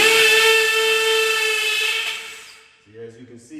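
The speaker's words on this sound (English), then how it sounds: "as you can see, this is really soft brick. So we got one drilled." A power drill bores a hole into soft brick while mounting a TV, giving a loud, steady high whine that slowly fades out, followed by brief clattering sounds at the end.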